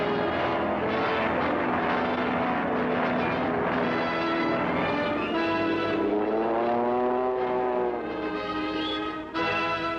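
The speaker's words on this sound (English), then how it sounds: "Planes warm up for a hazardous takeoff through wind and rain." Loud, steady drone of World War II propeller warplane engines warming up for takeoff in wind and rain, running and revving, layered harmonics rising and falling, close by and continuous with no talk.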